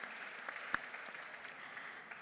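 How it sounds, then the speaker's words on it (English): Faint, distant conference audience applause rolls on steadily as a soft wash of clapping, with one sharper clap standing out briefly. "with a huge round of applause"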